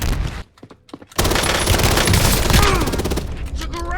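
Rapid automatic gunfire in a shooter video game, a dense, loud burst of shots that cuts in after a short quieter pause with a few scattered reports, continuing steadily to the end.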